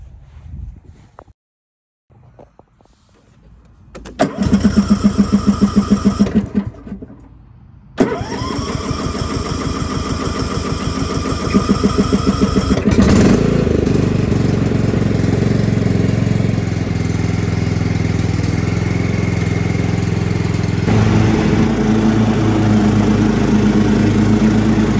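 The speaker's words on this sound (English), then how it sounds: "And I was out here with the riding lawnmower." A riding lawn mower engine cranks and catches after a couple of attempts, revs up loudly, then settles into a steady mid-pitched drone while cutting grass, close and continuous.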